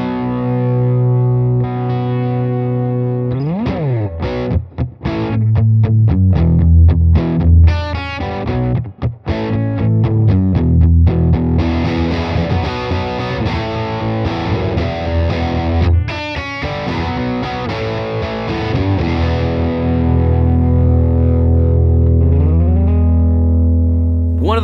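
Rock electric guitar through a distorted amp, miked at the center of the speaker cone with a ribbon microphone: loud, sustained chords and choppy riffs with effects, played alone without talk.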